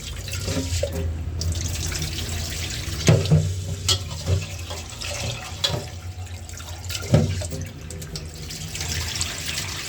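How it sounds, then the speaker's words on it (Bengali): Rice grains are washed in water with a running tap and bursts of splashing and sloshing as the grains are rinsed. No voices. "এই যে এখন ভালো করে ধুয়ে পরে আমি ভাতের চালটা ভিজিয়ে দিব"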